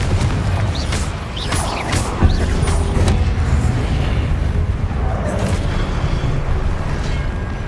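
A Confringo fire-blast spell goes off in Hogwarts Legacy as a loud, rumbling boom over constant, dense game noise and music, with one sharper burst standing out partway through.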